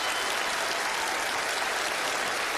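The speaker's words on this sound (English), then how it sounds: "Give him a big round of applause." A studio audience at a magic competition show applauds steadily for a volunteer, a dense, even wash of clapping with no voices over it.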